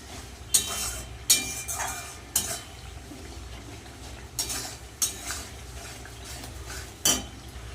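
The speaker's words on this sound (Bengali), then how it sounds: "আর দেব কাশ্মীরি রেড চিলি পাউডার ভালো করে মশলাটা কষিয়ে নেব" Spice masala with Kashmiri red chili powder sautéing in a pan, a soft steady sizzle broken by repeated sharp clinks and scrapes of a spoon stirring against the metal, close and with no talk.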